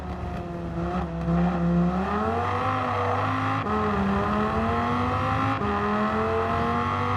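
Dodge Viper GTS engine in a racing video game, a steady loud drone rising and falling in pitch through gear changes, with brief shifts between pulls and no voices.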